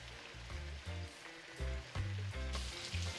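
Snapper sauce boiling hard in a pan, a loud steady sizzling bubble with rhythmic bursts of low stirring or scraping, close up and alone with no talk.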